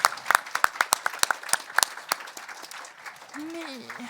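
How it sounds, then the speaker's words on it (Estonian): An audience of school students at a closing event in Telia's headquarters gives a round of applause: sharp, distinct claps that thin out and fade, followed by a voice speaking. "Tehke üks suur aplaus iseendale."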